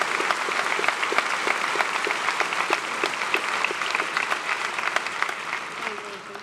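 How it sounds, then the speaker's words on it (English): Sustained applause from a large audience at a high school graduation ceremony for a scholarship award recipient, a dense, even wash of many hands clapping throughout, moderately loud and reverberant in a big hall. "Please give another round of applause to this year's scholarship award recipient."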